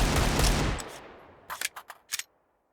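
Pistol gunfire in Counter-Strike 2 plays as a loud burst of shots that fades into a quick series of sharp, separate metallic clicks and pops, with no voices.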